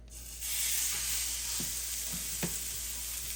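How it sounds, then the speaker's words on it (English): Ibérico pork collar sears in rendered bacon fat inside a clay pot, a loud close steady sizzle that swells as the meat goes in, with a few soft knocks of the pan and stirring. "Now that we got the nice bacon fat there, let's go ahead and start searing our pork collar."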